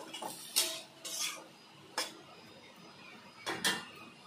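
A lid comes off a cooking pot of kundali alu posto, a potato-and-poppy-seed dish, in a few separate metallic clanks and scrapes, close by and fairly quiet, with no talk.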